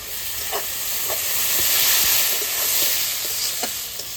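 Spice paste for a jackfruit curry made with goat fat sizzles steadily in a pan, a broad hissing fry with occasional light stirring clicks and scrapes and a gentle swell in intensity, with no voices.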